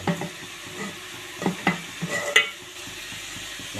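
Thick chickpea gravy is poured and stirred into a pot of rasam, with soft splashing and gentle sloshing and a faint clink of metal, fairly quiet.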